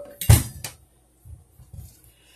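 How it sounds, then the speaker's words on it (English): A sharp knife chops the tip off an acorn squash on a cutting board, a loud knock and clatter with a quick second tap, then a few soft thuds as the piece is moved, close and clear without talk. "You want to cut that tip off like that."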